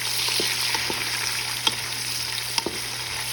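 Onions frying with garlic in a pan for seafood pancit, a steady close sizzle with a few soft clicks of stirring and no voices.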